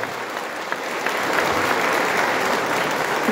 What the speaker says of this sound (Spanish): Un aplauso para el programa de adulto mayor.